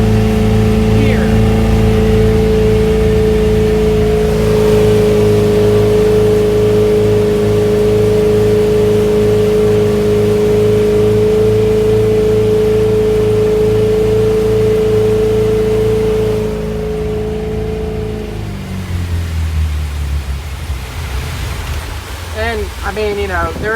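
A Mercruiser 7.4L 454 V8 in a Sea Ray 268 runs at full throttle with a loud, steady droning roar. Near the end the engine note drops as it throttles back into a rougher, lower rumble.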